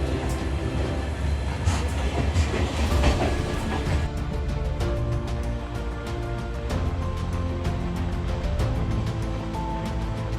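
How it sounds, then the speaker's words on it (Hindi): Passenger train leaving Guwahati for Sairang rumbles along steadily, with rhythmic clickety-clack wheel beats on the rails growing clearer in the second half. "ये हमारी ट्रेन निकल चुकी है गुवाहाटी से साइरांग के लिए।"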